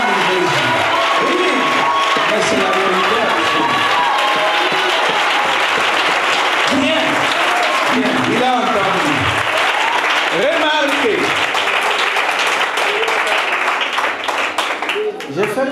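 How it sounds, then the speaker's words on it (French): A church congregation applauding and cheering Jesus, loud continuous clapping from a large crowd with shouts and voices mixed in throughout. "Il demande qu'on l'acclame. On acclame Jésus."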